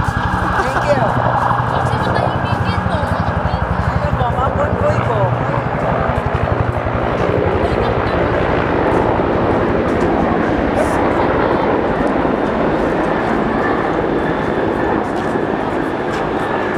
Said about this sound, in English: Presidential helicopter.